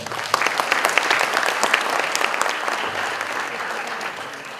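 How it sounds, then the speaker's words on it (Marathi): An audience at an acting academy event with a celebrity guest claps loudly and steadily. The dense applause holds at an even level throughout and tapers slightly at the end, with no speech over it. "अरे जोरदार टाळ्या"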